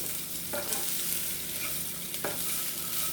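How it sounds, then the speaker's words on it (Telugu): Chopped nalleru stalks frying in a pan with a steady sizzle, a spatula scraping and stirring twice in short strokes, close and clear with no voices. "ఇప్పుడు నేను కట్ చేసి పెట్టుకున్న నల్లేరు కాడలు ముక్కలండి, దీన్ని కూడా దూరగా వేయించుకోవాలి."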